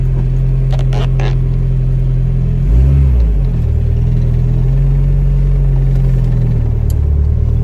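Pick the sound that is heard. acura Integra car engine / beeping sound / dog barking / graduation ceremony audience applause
acura Integra car engine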